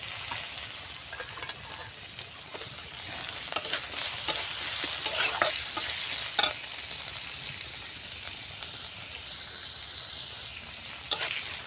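Chopped onions frying with spices in a pan, a steady close sizzle broken by scraping stirs and small clicks from a spatula, with no talk.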